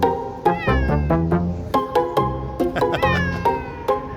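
Chesney the cat meows over and over on a sailboat, loud and close, a rapid chain of insistent, drawn-out cries with barely a pause between them.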